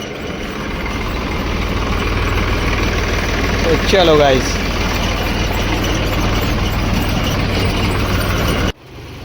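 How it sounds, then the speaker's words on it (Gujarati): A parked farm tractor's engine runs steadily, a loud low drone that continues under a man's brief speech, then cuts off abruptly near the end. "તો અહીં કણે આપણું ટ્રેક્ટર ચાલુ પડ્યું હોય"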